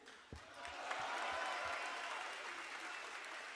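Audience applause for a freestyle rapper, a broad steady wash of many hands clapping at moderate level with a few low thumps near the start, running the whole stretch without talk.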